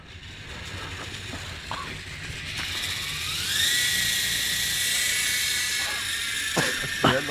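A remote-controlled model Apache helicopter flies out of control, its high motor whine rising and holding steady with scattered clicks and knocks around it, close by and fairly loud with no talking.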